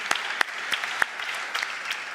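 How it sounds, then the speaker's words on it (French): Audience applause at a women's cybersecurity awards ceremony, a steady dense wash of clapping with a few sharper claps standing out, continuous and fairly loud with no voices over it. "Vous pouvez l'applaudir encore une fois."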